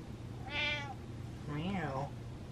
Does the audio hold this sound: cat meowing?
yes